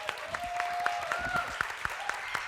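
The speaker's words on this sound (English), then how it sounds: "Big applause for Bojanče." Audience applause at a media forum on influencers and mental health as a TikToker guest from Montenegro is welcomed, moderate clapping with tonal music-like sounds mixed in.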